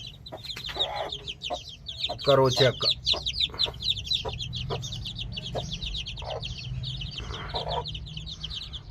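A hen clucks repeatedly in quick, busy bursts close by, while a person speaks briefly over the clucking.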